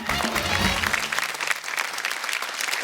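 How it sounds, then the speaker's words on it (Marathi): A studio audience at a television show breaks into loud, sustained clapping. Music and a voice overlap at the start, then fade, leaving the applause alone. "एकदा जोरदार टाळ्या होऊन जाऊ देत."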